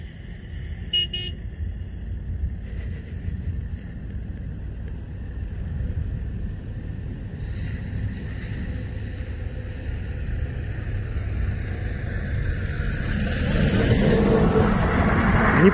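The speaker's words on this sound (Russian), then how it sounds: "И вот сейчас на машине немножко погоняем его." A car drives along with a steady low engine rumble that builds and grows louder toward the end, while a large Turkmen Alabai wolfhound is being trained to chase it; a brief horn-like tone is heard early on.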